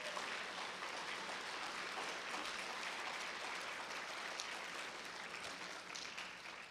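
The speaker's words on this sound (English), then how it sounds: "I want you to applaud the principals of those schools." Faint, distant applause from a ceremony audience honoring school principals, a steady, even wash of many hands clapping that holds without pause.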